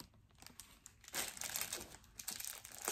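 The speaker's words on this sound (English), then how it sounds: "Let me unwrap it." Crinkly wrapping being pulled and torn off a small Christmas advent gift, a close, bursty rustling and crumpling that swells in the middle and continues in uneven crackles to the end.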